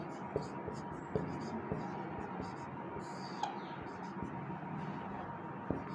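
Pen scratching on paper during a reasoning lesson, soft strokes with a few faint taps, heard alongside quiet talking in the room.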